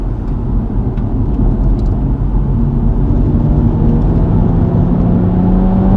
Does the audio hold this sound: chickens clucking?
no